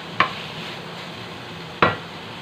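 Ginisang monggo with pork and vegetables stirred in a pan: two distinct scraping clinks of the spoon against the pan over a steady faint sizzle, with no talking.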